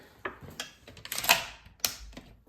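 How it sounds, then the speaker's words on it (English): A stainless bolt lock on an SCSA Taipan-X rifle is worked by hand, giving a few close, crisp metallic clicks and a sharper clack in the middle, spaced irregularly in a quiet room. "That stainless button there below the scope at the rear of the receiver is a bolt lock."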